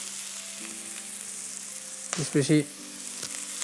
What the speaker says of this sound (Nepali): क्विकली यसलाई प्याज हल्का फ्राई जस्तो हुन थालिसकेपछि चाहिँ हामीसँग भएको भेजिटेबलहरू